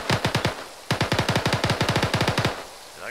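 Rapid bursts of automatic gunfire from a video game crackle loudly and close, two volleys of evenly spaced shots separated by a brief pause, with no talking.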